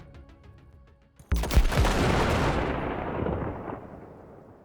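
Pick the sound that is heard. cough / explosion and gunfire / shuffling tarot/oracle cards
explosion and gunfire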